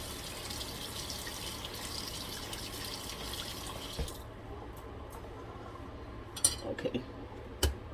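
Running tap water pours steadily under a kitchen faucet while something is rinsed off for about four seconds. After it shuts off, a few faint clinks of dishes follow in the quiet.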